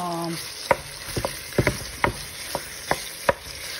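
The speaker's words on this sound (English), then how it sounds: "I'm gonna continue to stir a little bit, and as soon as it's gonna catch some" Smoked pork loin searing in a pan while being stirred, with a soft sizzle under a series of distinct spatula clacks and scrapes, about eight evenly spaced knocks; no speech.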